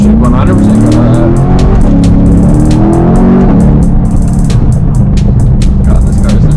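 A Chevrolet Corvette C8 engine roars loudly and continuously, revving up and holding a high, rough note close to the listener.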